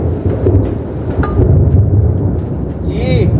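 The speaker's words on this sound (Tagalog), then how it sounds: "nakakatakot yung kidlat mga idol, no?" Thunder rumbles loud and continuous through a rainstorm, with steady rain beneath it, while people talk nearby in a kitchen.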